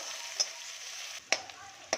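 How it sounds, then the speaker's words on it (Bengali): Beans fry in a wok for a vegetarian flattened-rice pulao, giving a soft, steady sizzle broken by three sharp clacks of a spatula stirring against the metal. "বিন কড়াইটা একবার একটু নেড়ে নিয়ে"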